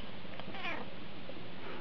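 A mother cat with her kittens on a village farm, a short mewing call with a soft follow-up meow, near and fairly quiet, nobody talking.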